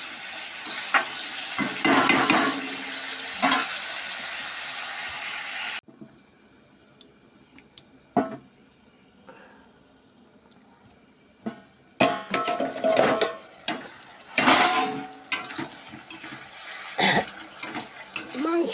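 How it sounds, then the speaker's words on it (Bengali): Meat being stirred and sautéed in a pot, with loud sizzling and scraping strokes at the start, a quieter stretch with occasional clinks, then renewed vigorous stirring and frying. "মাংস কষানো হয়ে গেছে"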